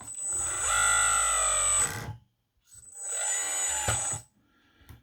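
A small hydraulic pump whirs in two sustained bursts as the arms of an LXY RC Bobcat skid steer model work, each run starting and stopping abruptly with a short pause between.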